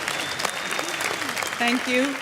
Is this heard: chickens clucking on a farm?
no